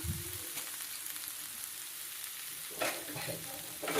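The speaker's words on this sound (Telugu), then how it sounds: "ఒకసారి వేయించుకోవాలి గరిటతో కలుపుకోవాలి ఇట్లా" Broad bean pieces with turmeric frying in a pan, a continuous close sizzle with a few scraping ladle strokes near the end, no talk.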